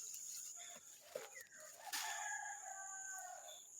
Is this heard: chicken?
yes